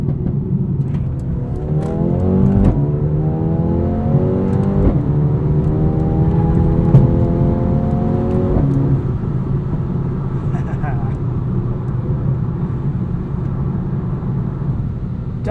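A 2020 Mercedes-AMG A35 sedan accelerates hard up an entrance ramp, its engine rising in pitch through several gears with quick shift breaks, loud and steady from inside the cabin before settling into a lower cruising drone.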